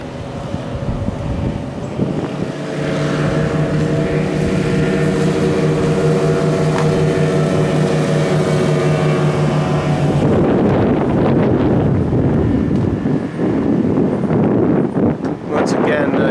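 A 1998 Grady White 272 Sailfish with twin 225 two-stroke outboards accelerates, a loud steady droning engine note that gives way to heavy wind roar against the microphone as speed builds.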